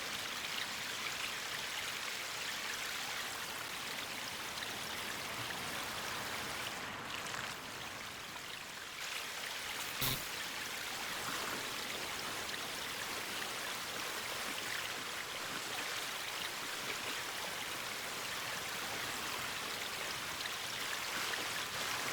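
Steady rushing water from the off-road driving game MudRunner, a continuous broadband wash like a stream running under the whole stretch, fairly quiet and unbroken, with one brief sharp knock near the middle.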